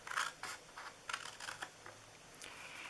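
Scissors cut a paper gift box template in short, quiet snips and crisp scratchy strokes, close up and irregularly spaced with no talking.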